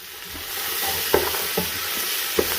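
Carrots stir-fried in hot rapeseed oil hiss with a steady close sizzle, broken by three soft scrapes and knocks of a spoon against the pan, with no voices.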